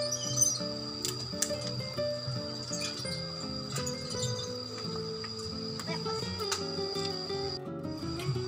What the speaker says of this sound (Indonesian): Ini taman burung.